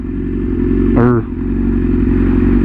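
A BMW S1000RR sport bike ridden in cold weather, its engine drone holding a steady, loud hum close by, with a brief rising whine about a second in before settling back to the even cruise.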